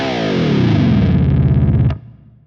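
Fractal guitar processor dive bomb effect on a linear setting: one loud distorted guitar note sweeps steadily downward in pitch for about two seconds, then cuts off abruptly into a short fading tail.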